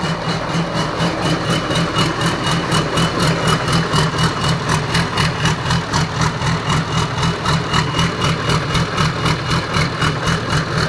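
A car engine idles steadily right after a turbo installation, a close, continuous low rumble with an even pulsing throb and no talk over it.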